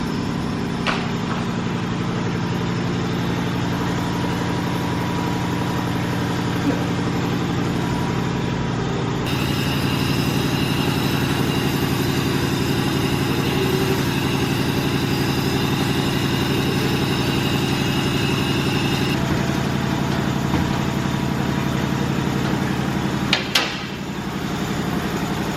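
A Dodge SRT car engine idles with a constant low rumble for the whole stretch, its tone shifting slightly midway, with no talking.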